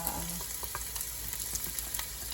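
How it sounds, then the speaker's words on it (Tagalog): Garlic and onion sauté in a hot pan as the start of a liver igado, a close, steady crackling sizzle with small scattered pops. "gigisahin ko na itong bawang at sibuyas"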